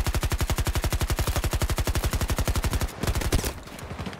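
Rapid automatic gunfire from a weapon in the video game Battlefield 2042, a steady fast rattle of shots for about three seconds, then a short break and a few scattered shots with mechanical handling noise.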